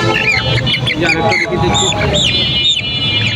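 Young Aseel chicks at a poultry market in Kaptan Bazar give out rapid, high chirps and peeps, scattered through the whole stretch, while people talk nearby over a busy background.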